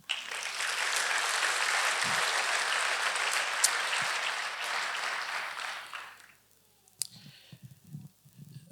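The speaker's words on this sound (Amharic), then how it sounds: "ለዚህ ቃል አጨብጭቡ እስቲ" A church congregation at a Protestant service breaks into loud, sustained clapping that holds steady for about six seconds, then fades away into near-quiet with a few faint murmurs and small knocks.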